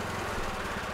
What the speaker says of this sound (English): And then we can run the engine.